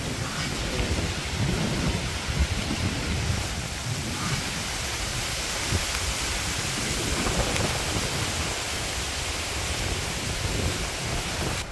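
Steady heavy rain pours with a dense, constant hiss, and low thunder rumbles through it in a village setting during a storm, filling the whole stretch without any voices.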